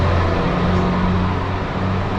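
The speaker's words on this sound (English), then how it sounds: "I hear something. Is it bus 109? Is it my bus? It sounds like a big truck." A city bus in Quito rumbles past on a street at Junin and Flores, a heavy low engine drone holding steady and close for a couple of seconds amid traffic noise, with no talking.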